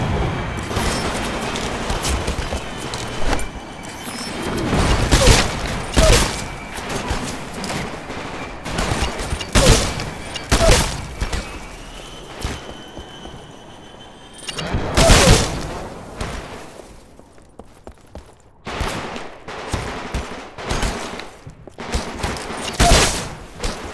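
Rapid bursts of gunfire in Titanfall's live fire exercise, loud repeated volleys and single shots crackling throughout with short gaps between clusters.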